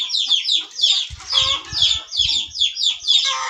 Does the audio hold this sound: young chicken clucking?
yes